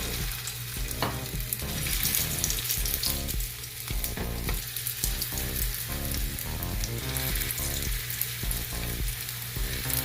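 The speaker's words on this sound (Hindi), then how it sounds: "ये शैलो फ्राई करने में 2 चम्मच ऑयल डाला है। ठीक है, अब इसमें मैं इसको रखता हूँ" Gola kababs shallow frying in two spoons of oil, a loud, dense, continuous crackling sizzle that stays steady throughout, close up and with no voices.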